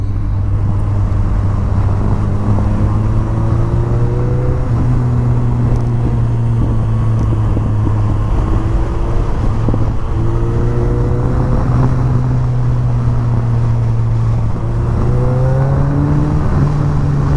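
A KTM 390 motorcycle engine drones continuously up close through a hilly canyon, its pitch rising and falling through gear shifts and throttle changes, with steady wind rush.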